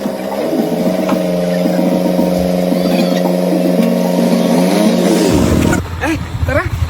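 A motorcycle engine runs with a loud, steady droning hum for several seconds, then cuts out abruptly and leaves brief voices and background noise.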